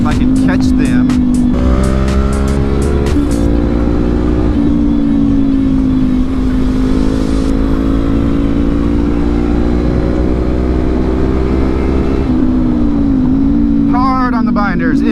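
A Honda CB500X motorcycle engine revs hard and sustained in third gear, a loud steady drone that rises in pitch, with wind roar throughout and brief gear-change dips.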